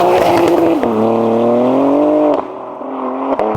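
A BMW G87 M2 is driven hard. The engine revs loud and close, falls in pitch through a gear change, and quick shift blips punctuate it. There is no talking.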